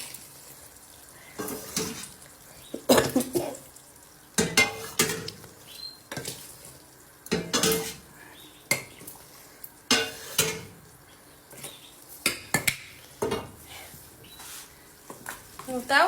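Spoon scraping and clanking against a pot of Tunisian mloukhia in irregular bursts, with bubbling and sizzling underneath and occasional voices in between.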